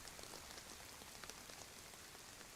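Rain falls steadily in a survival game set in Livonia, a faint, even hiss of drops with scattered small taps on surfaces and no voices.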